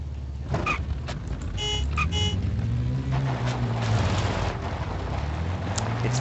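A car driving in the video game Defiance, its engine droning and rising in pitch as it accelerates, with a few short beeping tones early on, close and continuous.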